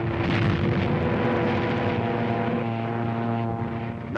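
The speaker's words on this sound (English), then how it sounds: "There's a Nazi dive bomber letting one go." A German Stuka dive bomber in 1943 North African wartime footage, its propeller engine roaring loud and sustained with a steady droning pitch.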